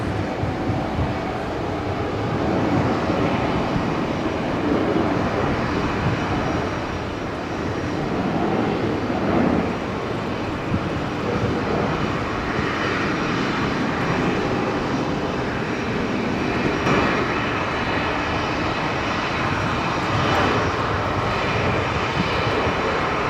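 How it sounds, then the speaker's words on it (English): A Qantas Embraer 190 airliner rolls for takeoff at Brisbane Airport, giving off a broad, steady jet-engine roar heard from a distance. The roar swells gently and holds without a break. "Qantas 1858 rolling now, going to Mount Isa, the Embraer 190."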